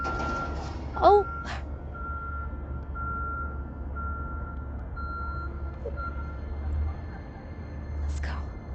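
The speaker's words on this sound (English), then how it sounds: "So now there's a tow truck that came to get it." A tow truck reverses on a snowy Vancouver street during a heavy snowstorm, its backup alarm beeping in a steady repeating series over low traffic rumble, with faint voices nearby.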